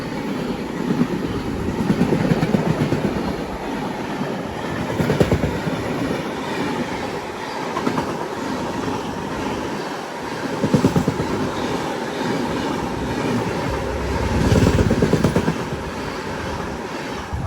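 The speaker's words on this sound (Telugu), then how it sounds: "పూణే కన్యాకుమారి ఎక్స్ప్రెస్ మనల్ని ఓవర్టేక్ చేసింది." The Pune–Kanyakumari Express rushes past on the adjacent track outside Kollam, a steady loud rumble of wheels with rhythmic clickety-clack and rising surges as carriages pass close by, heard from a nearby stationary train.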